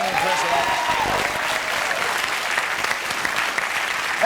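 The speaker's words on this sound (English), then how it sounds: "Keep clapping, everybody." A studio audience claps steadily at the close of a televised Australian national IQ quiz show, the applause dense and continuous throughout with a faint crowd murmur beneath.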